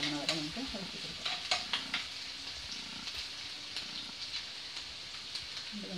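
Apple pickle mixture stirred in a non-stick pan, a soft steady sizzle under repeated scraping clicks of the spoon, close and moderately quiet throughout.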